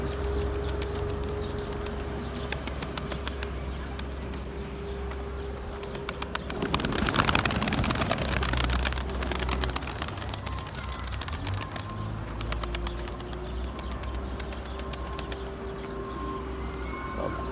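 Pigeons cooing steadily with a burst of wing flapping midway, flock nearby, a low hum underneath.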